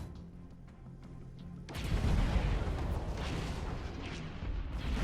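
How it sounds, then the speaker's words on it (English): Spinal cannons fire and explode in the Stellaris video game, a heavy booming blast that erupts about two seconds in after quieter rumbling and sustains a loud, rolling roar to the end. "The weapon firing when it hits the target and explodes is great."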